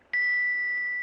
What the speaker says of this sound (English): You hold the bell, and I'll tap it with the pendant.